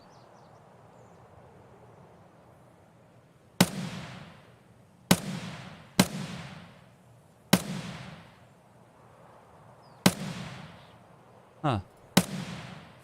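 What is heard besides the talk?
gunshots in a firefight with a sniper scav, video game Escape From Tarkov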